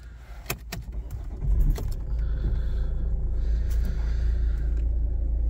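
A 2009 Volvo V50 engine turns over and settles into a steady low idle rumble, with key jangling and clicks just before it starts.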